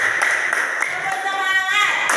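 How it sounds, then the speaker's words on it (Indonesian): Schoolchildren in a classroom clap together for a classmate in short, evenly spaced rhythmic bursts, with voices chanting along over the claps. "Tepuk tangan untuk Putu Listia."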